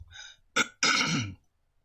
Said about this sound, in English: But I have some cough.